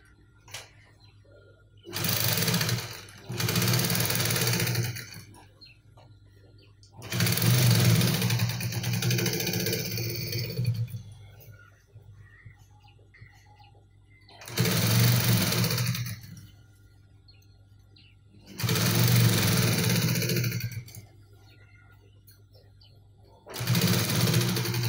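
Sewing machine stitching from the tip of a jacket's front lapel, running in several loud, close bursts of whirring stitches with pauses between them, while a person talks in the gaps.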